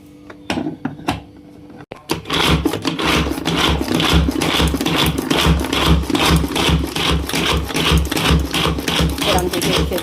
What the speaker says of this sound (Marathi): आता आपल्याला हे चॉपरमध्ये छान असं बारीक करून घ्यायचं आहे.